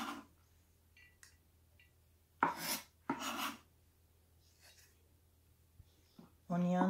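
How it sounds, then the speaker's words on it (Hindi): Knife chopping food on a board while cooking a Korean beef sauce spaghetti, with two short bursts of cutting sound close by and a voice speaking at the end. "इस तरह चॉप करनी है."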